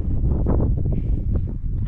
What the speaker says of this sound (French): Ah, il y a le vent.